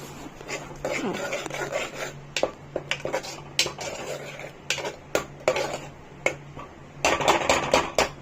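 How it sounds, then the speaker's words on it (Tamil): Chicken gravy with ginger and garlic being stirred in a pressure cooker, a spoon scraping and clinking against the metal pot in quick irregular strokes, close and fairly loud, with faint background noise. "இப்போ நம்ம கிண்ட வேண்டியதான்"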